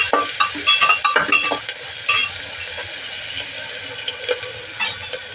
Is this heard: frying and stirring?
yes